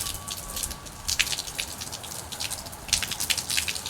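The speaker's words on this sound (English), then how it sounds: "we're just going to gently pour water over it so that" Tap water is poured gently over a cigar, giving soft patters and drips in irregular bursts, close and fairly quiet.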